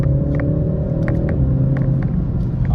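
A BMW 330i engine pulls in second gear, a loud steady low rumble from inside the cabin with a rising tonal drone and occasional faint ticks.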